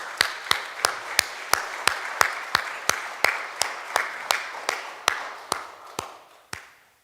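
Slow, evenly spaced claps ring out, roughly twenty sharp strikes about a third of a second apart, fading at the end, as a church congregation applauds during a Sunday worship service.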